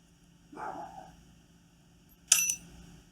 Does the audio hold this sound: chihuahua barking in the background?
yes